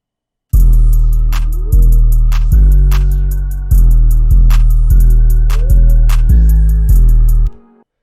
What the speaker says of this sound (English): and with the 808s and claps, that sounds like this.